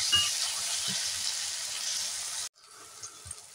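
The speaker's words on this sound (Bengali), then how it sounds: "পেঁয়াজ, রসুন আর টমেটোটা ভাজা হয়ে গেছে" Onion, garlic and tomato fry in a pan, giving a steady, close sizzling hiss that drops abruptly to a quieter sizzle partway through, with no talking.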